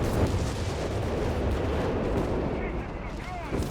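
Mortar and artillery fire in the Company of Heroes 3 battle game, a dense, continuous wash of booming blasts and rumbling explosions.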